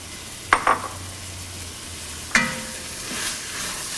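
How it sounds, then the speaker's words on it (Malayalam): Chopped tomato goes into hot masala in a pan for Kerala-style pork vindaloo, giving a steady near sizzle with a few sharp stirring and scraping clicks, no talking. "കട്ട് ചെയ്ത് വെച്ചിരിക്കുന്ന ടൊമാറ്റോ ഇട്ട് നന്നായിട്ട് വഴറ്റിയെടുക്കുക"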